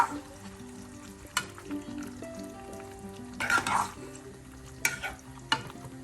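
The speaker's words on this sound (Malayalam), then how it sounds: "എല്ലാം കൂടെ നന്നായി മിക്സ് ചെയ്ത്" A chicken liver pepper fry stirred in a pan, a soft sizzle under intermittent scrapes and clinks of the spoon against the pan.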